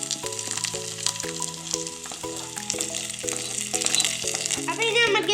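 Coconut pieces fry in hot oil in a pan, giving a steady broadband sizzle that runs beneath louder background music for the whole stretch.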